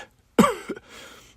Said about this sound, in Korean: 장인어르신은 말씀을 하시면서도 계속 기침을 하셨습니다.